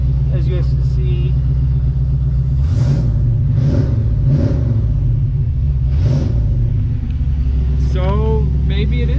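Small Block Chevy 327 V8 in a Nova, idling with a loud, steady low rumble and several short throttle blips, while someone talks over it.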